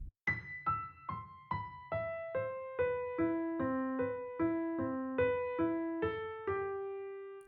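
A piano plays a right-hand improvisation pattern, a descending then wandering sequence of single notes, evenly spaced and ringing out, solo and close.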